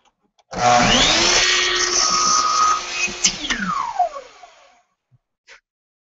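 A power saw makes a 45-degree miter cut through a small piece of wood, spinning up with a whine, biting through the stock for a couple of seconds, then winding down to silence, close and loud.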